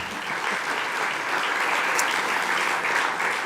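Audience applause at the Bled Strategic Forum in Festival Hall for Prime Minister Rama, a steady, dense wash of many hands clapping that holds evenly loud throughout.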